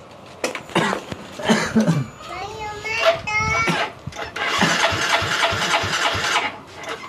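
A Yamaha Mio GT scooter that had been stalling suddenly is cranked and tried, with a few sputtering attempts followed by rough engine running, while nearby voices talk and cough over it.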